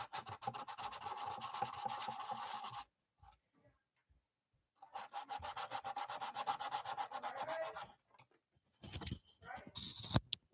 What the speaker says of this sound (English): So here we are with sandpaper.